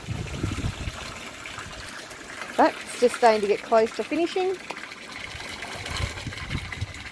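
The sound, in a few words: water from a tap filling an aquaponics grow bed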